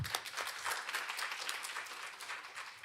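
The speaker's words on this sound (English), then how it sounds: "Please give Professor Kim another round of applause." Audience at an academic conference at Korea University applauding a speaker, a steady, fairly faint wash of many hands clapping that fades slightly toward the end.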